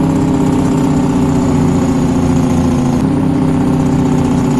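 A truck in the World Truck video game with its engine braking, giving a steady loud low rumbling drone that holds even and unbroken with a slight shift midway, no voices over it.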